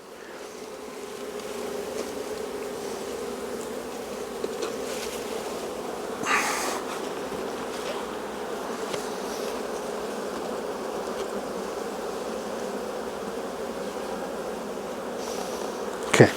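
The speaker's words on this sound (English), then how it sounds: "Smoke the bees kind of so they're not on the edges." Honeybees buzzing around an opened hive that has swarmed, a steady, dense drone lasting throughout, with a brief nearer swell from a bee passing close.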